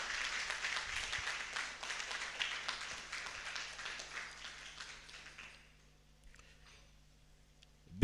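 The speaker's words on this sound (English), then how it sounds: "I want you all to give a rosy round of applause" Applause for a retiree at a retirement dinner and award ceremony: a room of guests claps steadily for about five seconds, then the clapping thins and trails off into quiet, with a faint thump at the very end.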